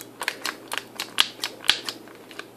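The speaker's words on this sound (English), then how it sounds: "If you hold that one there, so they're definitely clicking." The micro switches of a Power Play Cruiser joystick click in a quick, uneven series of sharp, close ticks that tap out like typing, with no speech.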